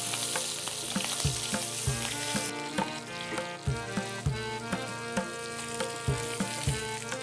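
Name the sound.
fish head frying in a pan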